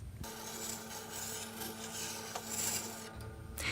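An edge tool being sharpened on a Tormek grinder, a steady close rasping grind with a low motor hum that carries on evenly throughout, no voices.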